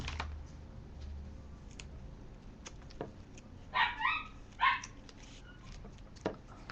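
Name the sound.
dogs barking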